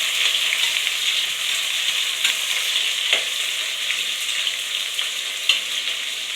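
Onion, curry leaves and whole spices fry in hot oil as they are stirred, a steady bright sizzle with occasional scrape and tap sounds from the spoon, close and continuous.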